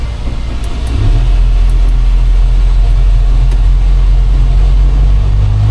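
A 1988 Grumman LLV mail truck pulls away and drives on, its engine settling into a loud, steady low drone with constant road rumble, heard from inside the cab with no voices.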